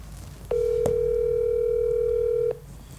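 A single steady telephone dial tone sounds at the start of a call placed from a laser engraving business's phone, holding clear and level for about two seconds before cutting off, with no talking over it.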